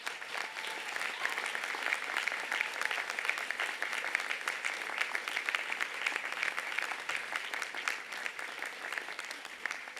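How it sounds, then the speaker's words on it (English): Graduates at a UTS Faculty of Health graduation ceremony applaud their support crew, a dense, even wash of many hands clapping at moderate distance, sustained steadily throughout without speech. "give a hearty round of applause for their support crew"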